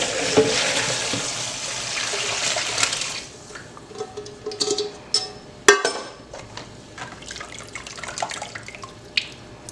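Cooked food being drained in a kitchen sink, a rushing pour of water for the first few seconds, then scattered drips, splashes and a sharp clatter of a pot or colander.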